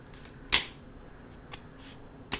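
Tarot cards are shuffled by hand in a few quick separate riffles, crisp close-up bursts with quiet pauses between them.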